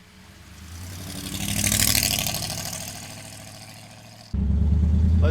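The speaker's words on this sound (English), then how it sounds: "Let's take our 41 Ford pickup truck for a ride." A 1941 Ford pickup fitted with a Ford 302 V8 runs steadily, revving up to a broad peak and easing back, then cuts abruptly to a louder, close, deep idle rumble.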